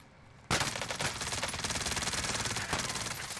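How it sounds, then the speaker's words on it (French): Rapid automatic gunfire bursts out in a Call of Duty Warzone match after a quiet start, continuing in a dense, sustained rattle at moderate volume. "Ils tirent dessus."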